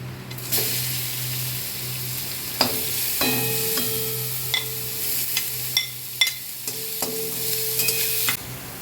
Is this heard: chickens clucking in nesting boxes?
no